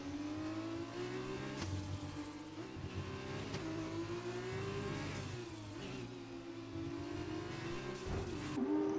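F1-style race car engines in an Xbox racing game scream near and loud, rising and falling through gear changes and acceleration out of a chicane, with cars sweeping past continuously.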